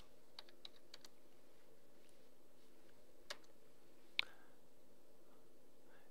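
Sparse, faint computer-keyboard keystrokes tapping out a number, a few isolated clicks spread over quiet room tone, no talk.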